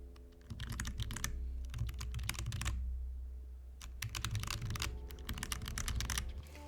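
Soft, muffled keystrokes from a quiet keyboard come in quick bursts separated by short pauses, with a low steady hum underneath; no one speaks.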